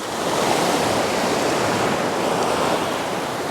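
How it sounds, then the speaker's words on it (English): Ocean surf rolls and washes onto a sandy beach on the Sonoma County coast, a steady broad roar of breaking waves close by with no voices. "as the waves pull in"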